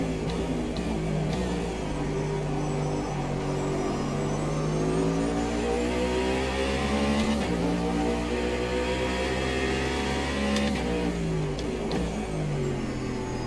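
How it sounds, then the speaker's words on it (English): A GT3 race car in Automobilista 2 at night at Daytona, its engine droning steadily at high revs, pitch sliding down and back as it brakes and downshifts for turn 1, loud and continuous with no voices. "Gotta catch this GT3 braking for turn 1."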